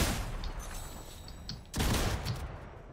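Gunfire in the Fortnite video game, a dense burst of shots with a louder volley partway through, loud and close with no talk over it.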